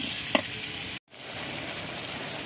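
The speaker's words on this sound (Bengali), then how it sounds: "কেটে রাখা আলুগুলো আমি মশলার সাথে ভালো করে মিশিয়ে নেব। মিশিয়ে কিছুক্ষণ কষিয়ে নেব ঢাকনা দিয়ে।" Cut potatoes sizzle and fry as they are stirred with spices for a vegetarian curry. There is a steady broadband hiss with a stirring knock early on, a sudden brief drop to silence, then the steady sizzle resumes.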